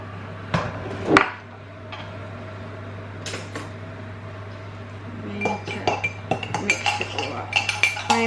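A spoon clinks against a cup while instant coffee is stirred into a tablespoon of hot water, a few sharp taps early on, then quieter scraping and repeated light clinks toward the end.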